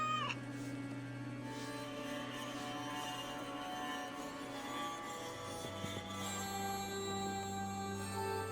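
Cat meowing in Assassin's Creed Valhalla, a faint drawn-out mew heard over a steady low game hum and soft tonal music, with no talk.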